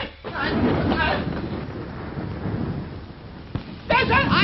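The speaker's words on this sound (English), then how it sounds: "There's a storm coming up." A thunderstorm rumbles with heavy rain in a 1939 crime comedy film, low thunder rolling under steady rain noise, with a sharper crack near the end; a voice briefly speaks.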